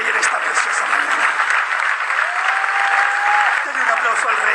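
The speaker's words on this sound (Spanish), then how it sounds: "Denle un aplauso al Rey en esta preciosa mañana." A church congregation applauds for the King during a morning worship service, a steady, dense wash of clapping filling the whole stretch, with a sustained tone and voices mixed in beneath it.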